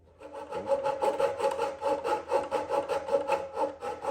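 A hand saw cuts through a flexible wooden handrail during a newel post and handrail install, with steady back-and-forth rasping strokes that repeat in an even rhythm, close by and moderately quiet.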